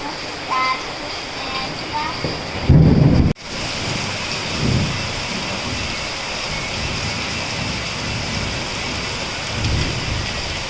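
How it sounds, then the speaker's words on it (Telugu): Heavy rain pours steadily on surfaces as a thunderstorm passes, with a sharp, loud thunder crack near the start and low rumbles rolling under the constant hiss, while a person speaks faintly. "సో చూస్తున్నారు కదండి ఇందాక చూపించిన వర్షం అయితే జస్ట్ అప్పుడు స్టార్టింగ్ అయింది"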